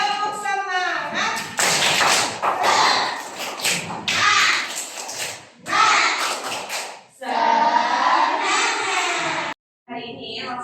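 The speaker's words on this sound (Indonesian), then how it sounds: "Yuk sama-sama kita tepuk semangat ya." A class in a school lesson does the 'tepuk semangat' spirit clap chant, with a teacher's voice leading and rhythmic bursts of hand claps running between the spoken lines.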